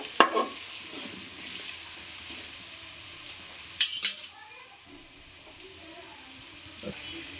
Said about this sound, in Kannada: ಅನ್ನ ಹಾಕಿ ಚೆನ್ನಾಗಿ ಮಿಕ್ಸ್ ಮಾಡ್ಕೊಳ್ಳೋಣ